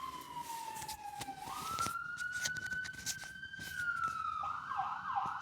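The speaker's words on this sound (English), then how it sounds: "We have to wait for the siren to go." Wailing siren in the distance, its pitch dipping then rising and holding in a long slow sweep, faint against background noise.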